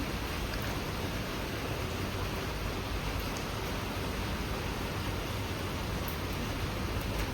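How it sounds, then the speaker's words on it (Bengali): Heavy rain pours steadily outside a hotel at a beach resort in Mandarmani, a dense, even hiss that never lets up and carries no voices. "বাইরে ঝমঝমিয়ে বৃষ্টি চলছে"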